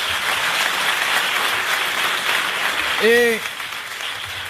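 A French television studio audience from 1981 applauds a contestant in a steady, full round of clapping; near the end a voice speaks briefly over it as the applause eases.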